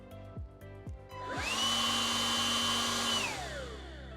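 A Milwaukee M12 cordless blower (M12 BBL) spins up after a few clicks, holds a loud, steady whine for about two seconds, then winds down.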